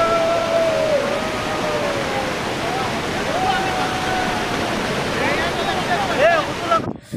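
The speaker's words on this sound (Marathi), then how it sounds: "काय तो धबधबा" A waterfall near the Vyaghreshwar temple at Pen rushes in a steady, loud broadband roar. Faint voices or tones drift in and out above the constant water noise.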